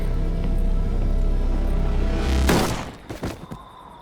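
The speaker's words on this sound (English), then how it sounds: "Wasn't a very loud bang for a fucking huge magnum." A magnum fires a single sharp bang cutting through a loud, low droning background. Brief clattering knocks and rattles follow as the noise drops away.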